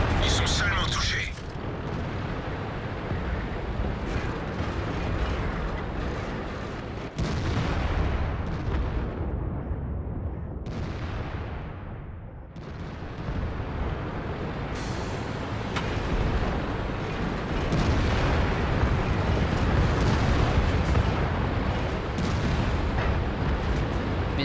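Tank cannon fire in the World of Tanks video game: heavy booming shots land at about 1.5, 7 and 15 seconds. Each sits over a constant dense roar of battle noise, with a voice talking throughout.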